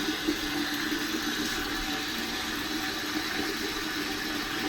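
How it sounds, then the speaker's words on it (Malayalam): Steady water runs into a pot being filled for cooking rice for the evening meal, a continuous close hiss and gurgle with no voices. "രാത്രിത്തേക്കുള്ള ചോറ് വയ്ക്കാൻ വേണ്ടി വെള്ളം പിടിക്കുന്നു."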